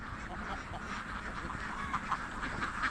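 Ducks kept by a duck farmer at Karuvatta quack intermittently, several birds calling over a steady outdoor background, some near and clear, with faint voices in the distance.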